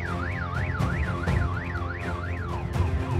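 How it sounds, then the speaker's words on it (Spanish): A car alarm wails in a steady rising-and-falling whoop after an earthquake, loud and continuous, with a low rumble of street noise beneath it. "Las alarmas de los vehículos"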